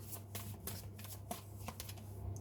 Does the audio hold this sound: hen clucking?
no